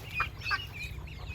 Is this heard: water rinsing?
no